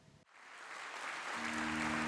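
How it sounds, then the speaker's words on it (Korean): A church congregation breaks into applause as large national flags are carried into the sanctuary; after a brief thump the clapping swells into a steady, dense roar of many hands with a faint sustained tone underneath. "말레이시아와 헝가리, 몽골 등 61개의 대형 국기가 예배당으로 들어오자 성도들의 박수가 쏟아집니다."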